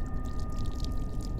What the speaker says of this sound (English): I hear some water.